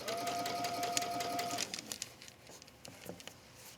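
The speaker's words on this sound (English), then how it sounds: "depending on what kind of sewing machine you have, you might have a setting where you can just make it stitch a little bit slower" A sewing machine stitches fabric around a curve for a tree-shaped pillow, running as a fast, steady mechanical whir that pauses and resumes in short, softer bursts.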